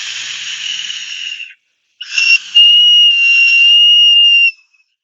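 A glazed ceramic whistle shaped like a Halloween figure with black eyes and a bleeding mouth is blown twice, close and loud. The first blow is a breathy hiss of about a second and a half. After a short gap comes a longer, steady, clear whistle tone.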